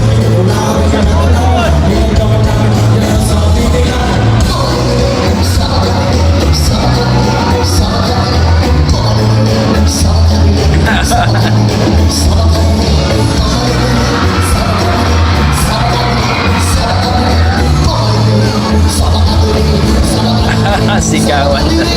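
A large crowd at a performance shouts, whoops and yells nonstop, loud and dense, with a rhythmic thumping beneath the babble of voices.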